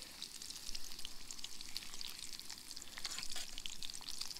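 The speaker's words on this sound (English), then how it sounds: "We're gonna go ahead and give them a flip here with my bass spatula." Trout fillets breaded in crushed BBQ chips fry in a pan with a soft, steady sizzle and crackle that stays fairly quiet and even throughout.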